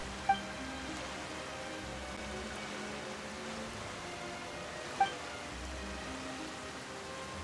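Sudden rainfall in the Genshin Impact video game, a steady soft patter and hiss of rain with a low ambient hum, continuous and even, with two brief faint clicks and no voices.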